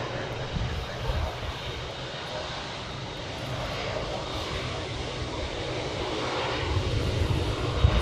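A large airliner's jet engines rumble and whine steadily at an airport in Hawaii as it pushes back and taxis, a broad continuous roar that swells slightly near the end.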